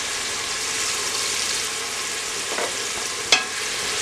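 Onions cooking in a pan over medium heat give a soft, steady sizzle, with a light scrape of stirring and a brief clink near the end.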